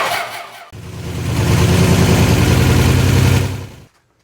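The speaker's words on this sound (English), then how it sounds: "Now we just start it up and bring it up to temp." A Slant 6 engine cranks briefly, catches and settles into a loud, steady idle, holding close and even for a few seconds before being shut off abruptly.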